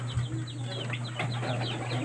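Chickens cluck softly and repeatedly over a steady low hum, with occasional scattered peeps from smaller birds.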